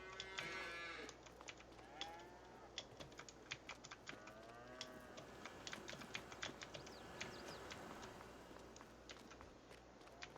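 Cattle moo repeatedly in Farming Simulator 22, several drawn-out calls overlapping, mixed with quick clicks like keyboard typing and light footsteps, fairly quiet overall.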